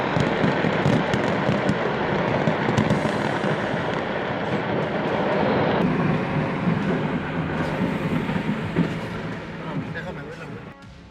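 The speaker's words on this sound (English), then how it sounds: "Repeated explosions echoed throughout the Tultepec fireworks market" A dense, continuous barrage of fireworks explosions rolls through the Tultepec fireworks market, loud rumbling blasts and crackles merging into a sustained roar that slowly eases toward the end.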